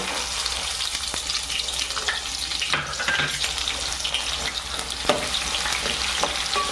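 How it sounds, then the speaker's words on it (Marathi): Chopped onion fries in hot oil with whole spices, producing a constant nearby sizzle with occasional stirring scrapes and faint clinks. "खडा मसाला टाकल्यानंतर या कापलेला कांदा टाकून घेऊ"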